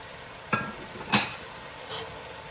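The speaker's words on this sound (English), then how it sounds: "now I will just keep on stir frying the chicken until the oil comes out" A steady sizzle of chicken stir-frying in oil in a pan, with a couple of sharp scraping clinks as the chicken is stirred.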